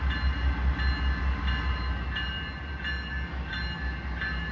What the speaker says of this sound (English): Switching tracks. Canadian Pacific.